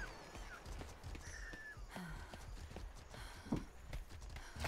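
Horse hooves clip-clopping at a walk in the pirate video game Atlas, soft and somewhat distant over a busy game ambience with scattered clicks and tones.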